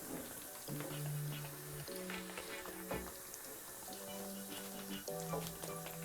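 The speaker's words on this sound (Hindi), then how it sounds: "ये मैंने कतलमा जो बनाया था वो मैंने ऑयल में डाल दिया" Katlama, a Lahori fried flatbread, sizzles in hot oil with a steady bubbling crackle, broken by a few sharper spits and pops, heard close with a faint tonal hum in the background.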